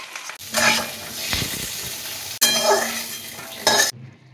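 Diced carrots and eggplant dropped into hot oil, three loud bursts of sizzling as pieces go in, separated by brief gaps, with stirring scrapes.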